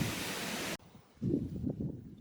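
Wind buffets a microphone outdoors on a windy day: loud broadband rumble and rush that cuts out abruptly, then returns as weaker low-pitched gusts.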